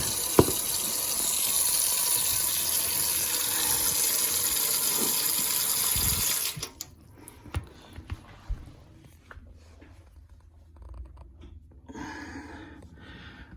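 Tap water gushes steadily into a kitchen sink to check a newly replaced garbage disposal and its felt sink seal for leaks, a continuous loud flow for about six seconds, then shutting off, leaving quiet with small drips and clunks.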